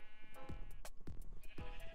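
Sheep in a video game bleat in several short, distinct calls that repeat quickly over a quiet background.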